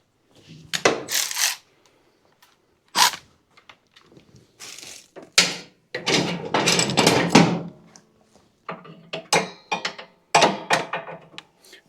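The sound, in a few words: tightening a 9/16 nut on a riding mower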